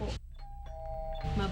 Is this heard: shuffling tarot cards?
no